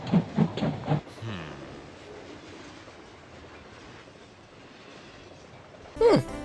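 A passenger train departs in the video game Five Nights at Smudger's 4, with a steady rumbling roll of wheels under a brief voice at the start and a short whistle-like squeal near the end.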